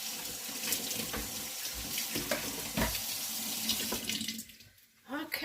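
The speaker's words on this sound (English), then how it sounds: "Put water in this blender." Tap water running steadily into a kitchen blender, a continuous splashing hiss that cuts off near the end, with a few brief clunks.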